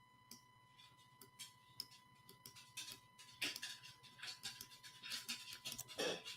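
A dog pants in quick rhythmic breaths close by, quiet at first and then louder and heavier, with light ticking and clicking in the room around it.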